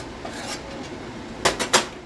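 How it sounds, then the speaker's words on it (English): A cookie spatula scraping browned fond loose from a chicken pan, a low background hum followed by three quick, sharp scrapes near the end, close and fairly loud, no speech. "I like to use a cookie spatula thing because you're going to scrape this loose."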